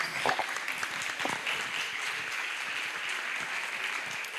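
An audience at a health-system congress applauds to welcome a speaker, steady sustained clapping from a full hall that holds evenly for several seconds.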